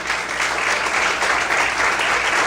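A church congregation applauds during an evening service, a dense, steady roar of many hands clapping together at close range, sustained for the whole moment.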